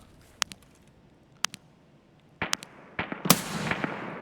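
Bolt-action sniper rifle in Escape from Tarkov: a few sharp, distant cracks spaced apart, followed by a louder cluster of shots and echoing reports near the end.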